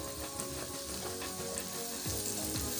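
Onions frying lightly in a pan give a steady, close sizzle throughout, with faint stirring scrapes and the occasional spoon knock over the constant hiss.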